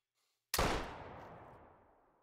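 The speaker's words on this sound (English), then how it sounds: "That was another shot." A single sharp hunting rifle gunshot in the Call of the Wild hunting game, fired during a yak hunt, bursting loud out of silence and then trailing off in a long, fading echo.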